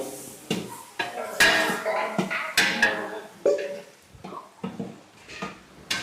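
Tomatoes, mint, coriander and curd are stirred in a large biryani pot for mass cooking, with irregular loud clanks and scrapes of a ladle against metal and a soft sizzle beneath.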